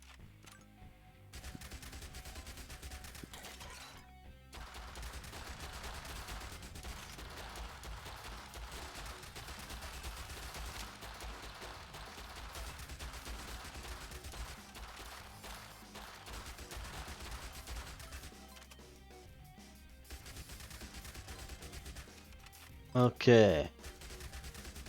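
Rapid SMG gunfire rattles on almost without a break through a zombie survivors video game, a steady mid-level stream of shots under music, with a brief spoken word near the end.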